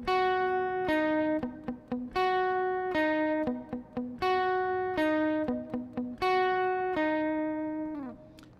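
Electric lead guitar picks out the three notes of a major triad, clean sustained tones stepping back and forth in a repeating pattern, alone and fairly quiet.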